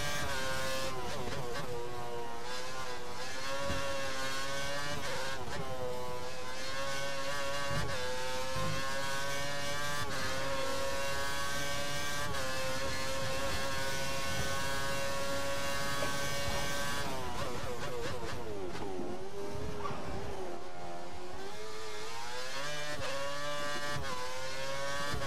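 An F1 car in the F1 2013 game runs a qualifying lap at Germany, its high-pitched simulated engine whining steadily and climbing through gears, dipping and re-accelerating near the end, continuous and prominent with no talk.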